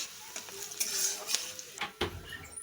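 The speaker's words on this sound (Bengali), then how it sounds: "কেটেগুলি রাখা পেঁয়াজগুলো ছেড়ে দিয়েছি এখন লাল লাল করে ভেজে নেব" Chopped onions fry in hot oil in a pan, giving a brief crackling sizzle with a few scraping stirs and a clink of the utensil.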